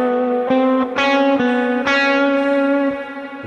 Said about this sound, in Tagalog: i-on natin yung malawak na reverb na nilagay ko